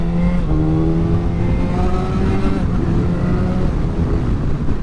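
A Yamaha FZ1 or R6 sport motorcycle engine drones loudly and close while riding, its pitch rising and falling as the rider shifts through the revs, with strong wind rush and no talking.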